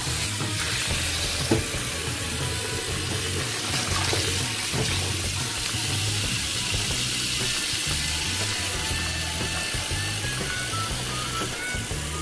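Hot tap water runs steadily into a container while catfish is being prepared, a continuous close splashing rush with no talking.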